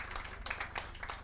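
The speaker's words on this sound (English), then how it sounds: "A round of applause for all of you." An audience at a women entrepreneurs summit claps in a brief, moderately distant burst of scattered hand claps over a low room hum.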